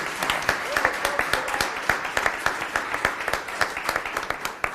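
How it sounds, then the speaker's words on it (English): A room full of people gives a sustained round of applause at a school board meeting, dense steady clapping throughout with some voices mixed in. "We can get one more round of applause."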